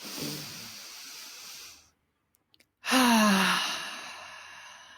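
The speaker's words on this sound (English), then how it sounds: "Taking another deep, deep breath in, belly breath in." Deep belly breathing during a guided breathing exercise: a long, airy breath, a short pause of near silence, then a loud, close, rushing exhale that fades slowly.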